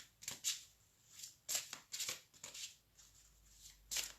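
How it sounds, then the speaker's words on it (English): Tarot cards are shuffled in quick, crisp riffling bursts, several short flurries of card noise spaced apart, close and fairly quiet with no talk. "interesting how the cards are just shuffling"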